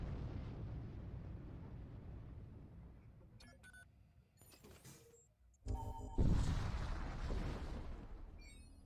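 A photon beam weapon fires in the space combat game Void War. A quiet, low rumbling bed with scattered mechanical clicks builds into a sudden loud, sustained booming discharge in the latter half, with no talking.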